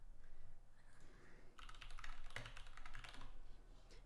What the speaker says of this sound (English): I feel like such a gamer with a mechanical keyboard.